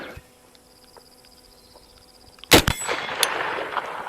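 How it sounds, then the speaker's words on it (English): A single sharp rifle shot from an early Winchester semi-automatic cracks loudly after a quiet stretch of faint insect buzzing, followed by a ringing clang off a steel target and fading echo. "I'm going to try it for some steel first, just to see where it's shooting."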